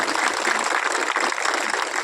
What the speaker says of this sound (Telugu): వారికి మనందరి తరఫున చప్పట్లతోటి ఒకసారి అభినందన చెందాలి